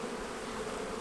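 A cluster of newly installed package bees hums in a dense, steady buzz, close and continuous, with no talking.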